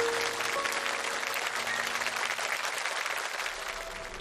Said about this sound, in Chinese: 我们大家用掌声祝福他。